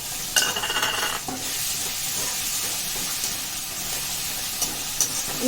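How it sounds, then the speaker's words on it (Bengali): Fried onions with ginger garlic paste being stirred in a pan for a Rajasthani red mutton curry, giving a steady close hiss of sizzling with scraping stirring strokes and no talk. "আদা রসুনের পেস্টটা দিয়ে এবার একটু নাড়াবো একটু নাড়াবো ওটা"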